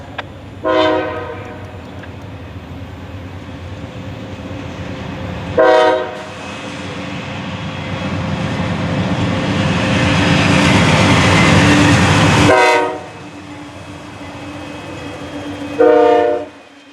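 A loud train horn sounds several long blasts as a circus train rumbles past nearby, its roar building and fading between the horn calls.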